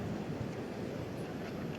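Wind gusts at an outdoor clay tennis court at Roland-Garros during a women's quarter-final roar and buffet the microphone as a steady, loud, dense rumble, with no voices.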